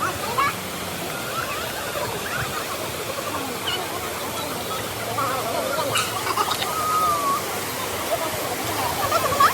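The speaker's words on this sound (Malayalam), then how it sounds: "ഇതേ ഒരു കുഞ്ഞു വെള്ളച്ചാട്ടം നിങ്ങൾക്ക് കാണാനുണ്ടോ" A small waterfall on a family trip in Kodaikanal gives a steady broadband rush of falling water, continuous and fairly near, with occasional bird chirps and brief voices in the background.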